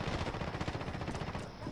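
SMG gunfire in Call of Duty: Modern Warfare beta multiplayer, a rapid, continuous automatic burst lasting under two seconds, loud and dense with no voices.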